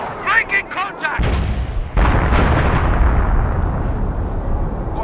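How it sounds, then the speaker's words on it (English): A 25-pounder artillery barrage in Company of Heroes, set in 1944 during Operation Bluecoat, heard as heavy booming blasts that swell into a sustained rumbling roar after a short burst of radio-style voices. "25 pounder ready. Target. Concentration barrage. Fire taking for effect. Fire."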